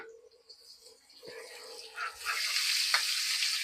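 Chopped onion with dry red chilli, cinnamon sticks, cardamom and a bay leaf sizzling in hot oil, a crackling fry that swells louder and stays steady near the pan.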